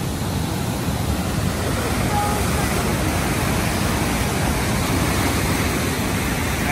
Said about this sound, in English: And this water is moving.